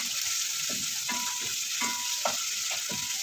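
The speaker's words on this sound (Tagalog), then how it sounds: "Gigisa ko na yung aking bawang sibuyas para doon naman sa gulay." Garlic and onion sauté in hot oil with a loud, continuous sizzle, broken by regular scraping strokes of a spatula stirring the pan.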